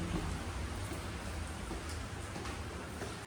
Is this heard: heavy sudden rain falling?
yes